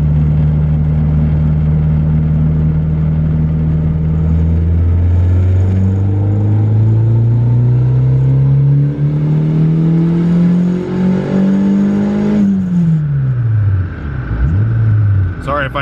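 Turbocharged single-cam Honda D-series engine on a dyno, loud and close, climbing steadily in pitch through a long pull before abruptly cutting back and dropping off, with a brief settle near the end.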